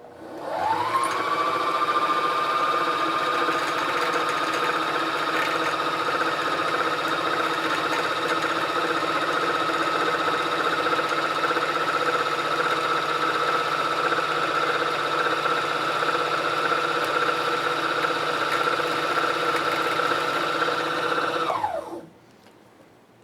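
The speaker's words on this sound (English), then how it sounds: "So now we'll wind the bobbin." A Janome sewing machine runs steadily while winding a bobbin, its motor whirring at an even pitch for about twenty seconds after a quick spin-up, then winding down and stopping abruptly.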